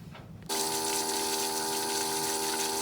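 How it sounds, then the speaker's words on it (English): A water pump kicks on about half a second in and then runs steadily, a loud continuous hum with a tonal whine over rushing water. No one speaks. "So I don't think the problem is the pump. The pump is moving water."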